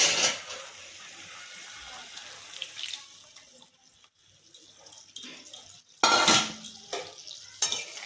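Poppy seed and mustard paste poured into a pan of spices and stirred for hilsa fish, wet scraping and clinking of a spoon against the pan, a quieter stretch, then louder clattering stirs near the end.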